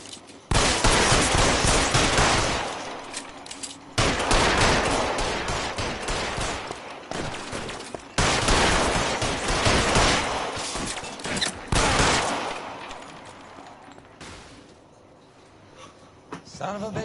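Gunfire rattles in LA Noire, loud, close bursts of rapid automatic shots, each lasting a few seconds with short gaps between, fading near the end, with voices talking in the game.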